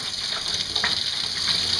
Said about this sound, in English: Just keep rinsing it till you get all the soap out of there.